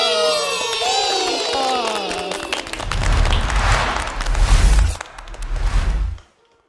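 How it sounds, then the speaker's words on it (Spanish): A children's audience at a Christian kids' church event applauds and cheers loudly, a swelling burst of clapping and shouts following a voice and building toward the end before cutting off. "Recibamos con fuertes aplausos."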